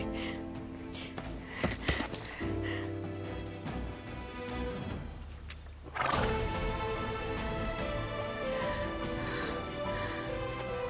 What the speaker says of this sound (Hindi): देखो घोड़ा, वहां देखो घोड़ा है